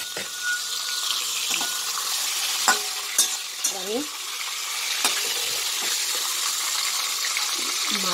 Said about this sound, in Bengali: কড়াইতে মাছটা দিয়ে দিয়েছি, এবার এটা ভাজা হবে।